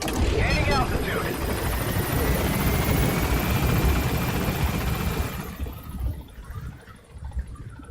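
A helicopter in the video game Metal Gear Solid V: The Phantom Pain climbs to gain altitude, its steady loud rotor roar and whine filling the first five seconds before fading and thinning out toward the end.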